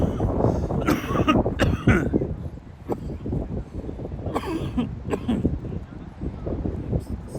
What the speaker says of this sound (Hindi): खांसी लग गई है